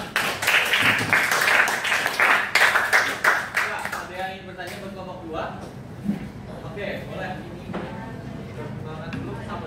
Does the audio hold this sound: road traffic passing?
no